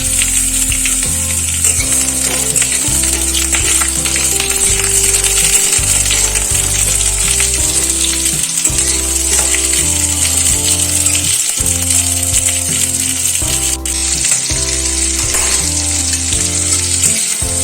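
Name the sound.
pointed gourd frying in oil in a wok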